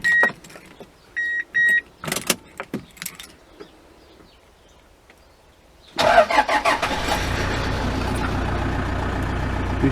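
A 2008 Toyota HiAce short-wheelbase camper van with a 2.4 diesel and 5-speed manual: a few clicks and key jingles, then the engine cranks and catches into a steady, close diesel idle.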